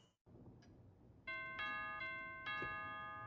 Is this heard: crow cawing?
no